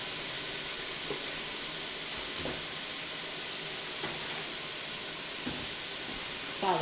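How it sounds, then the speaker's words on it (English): Corn being stirred in a hot pan: a steady sizzle and hiss fills the whole stretch, with a few soft scraping strokes of the stir at intervals, moderately close and uninterrupted by talk. "Gotta stir on the corn."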